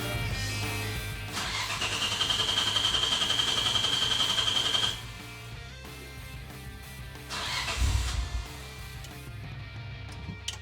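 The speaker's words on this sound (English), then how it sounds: "start the car, because you want to have the engine pull the fuel out of the line." Nissan R32 GTR engine cranking and firing up after a fuel pump install, a loud idle with a sustained whine, then settling lower before a second brief rev burst, close to the car.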